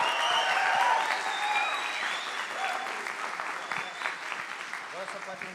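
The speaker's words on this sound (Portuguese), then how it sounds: "Vamos dar salva de palmas para eles." A church congregation applauds in sustained, dense clapping that gradually thins out over several seconds, with voices and a speaker's talk over the clapping.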